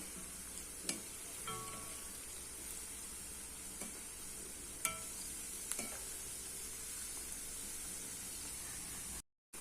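Spinach bonda deep-fry in hot oil while being turned with a wire, making a quiet, continuous bubbling sizzle with a few light metallic clicks and no talking.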